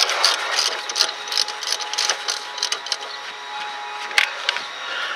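Socket ratchet turning the front wheel bearing bolt on a 2000-2008 Ford Focus: rapid, close metallic clicking in quick bursts, steady and unbroken by talk.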